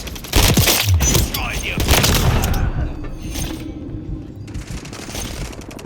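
Video game gunfire crackles in rapid bursts, loud and close at first, then thins into scattered shots and mechanical clatter with a voice speaking over part of it.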